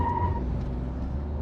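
Tata Tiago 1.2L manual hatchback launching hard with wheel spin for a 0 to 100 run, a close, loud low engine roar with rumbling drivetrain noise through the short burst.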